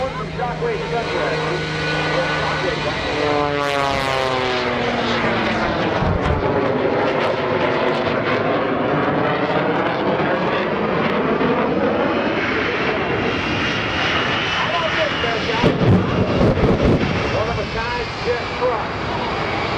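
The Shockwave jet truck's powerful jet engine roar fills an airshow, its pitch sweeping up and down as it passes, while an announcer briefly speaks over it.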